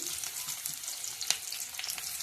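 Onions sizzle and crackle in hot oil, a steady close frying hiss with small pops throughout and no talking.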